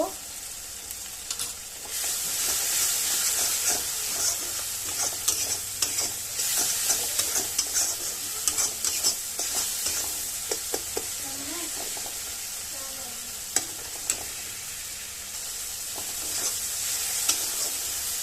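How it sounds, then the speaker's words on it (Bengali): Whole spices with garam masala sizzle and crackle steadily in a hot pan for the whole stretch, with occasional sharper ticks of stirring over a constant bright frying hiss and no talk. "এই যে মশলা ভাজা হয়ে গেছে"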